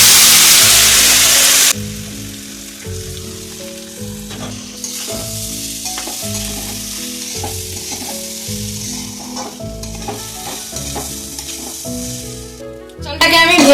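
Rice frying with whole spices in a pan for Basanti pulao, a loud steady sizzle with stirring scrapes, preceded by a brief intense hiss and with faint background music throughout; no talking.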